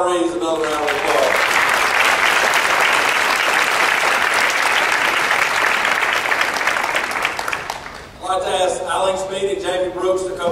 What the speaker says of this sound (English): Let's give all our honorees another round of applause.